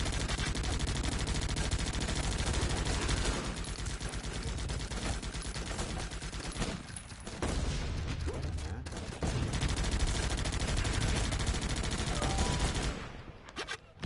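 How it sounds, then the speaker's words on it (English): Rangers firing their guns back in the Guns Up video game: a loud, sustained fusillade of overlapping rapid gunfire that dips briefly midway, then resumes and fades out at the end. "Once I try to shoot into one of these guys, they all fire back."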